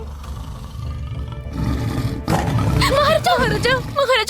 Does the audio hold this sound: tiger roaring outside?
yes